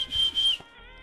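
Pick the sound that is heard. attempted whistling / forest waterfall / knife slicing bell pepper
attempted whistling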